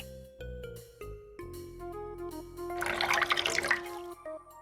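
Water is poured out of a glass in the video game Lucy Dreaming, a brief splashing gush over sustained music tones lasting about a second before fading.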